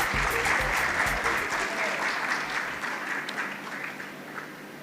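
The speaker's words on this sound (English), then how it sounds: "Can we give them a big round of applause?" An audience at a motorsport championship awards ceremony in Kenya claps steadily for several seconds, dense even applause that slowly tapers off, heard alone without voices.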